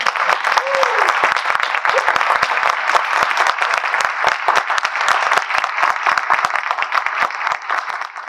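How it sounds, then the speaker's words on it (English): A large crowd at an awards dinner applauds loudly and continuously, dense clapping that holds steady for several seconds, with a brief voice or cheer early on. "I would like all of us to give a round of applause"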